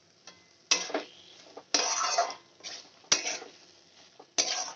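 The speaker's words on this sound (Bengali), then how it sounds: "আমি একটু কষিয়ে নেব" Potatoes are sautéed in a pan for a cauliflower and potato dalna, with a spatula scraping and clanking against the metal in several distinct strokes over a soft sizzle.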